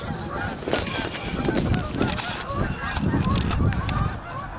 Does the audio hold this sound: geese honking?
yes